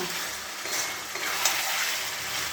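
Food frying in a pan while being stirred and cooked down makes a steady, moderately loud sizzling hiss with light scraping, and no one speaks.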